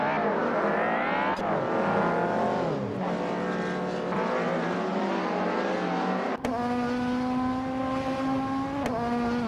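Engine of a 1995 Volvo 850 in a racing video game, a steady loud drone with rising and falling pitch as it shifts gears, plus a sharp click partway through.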